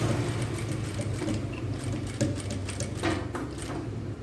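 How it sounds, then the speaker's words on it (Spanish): Continuous close sewing machine whir while topstitching a seam on the right side of a denim skirt, a steady mechanical drone with small rhythmic ticks throughout. "vamos a repisar por el lado del derecho"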